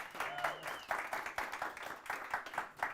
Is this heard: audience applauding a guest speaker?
yes